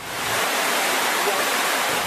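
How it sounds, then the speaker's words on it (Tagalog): River water rushing steadily after a night of heavy rain near the spilling La Mesa Dam, a dense, continuous roar of swollen current that stays loud and even throughout. "bahagyang tumaas at rumagasa ang tubig matapos ang magdamag na ulan"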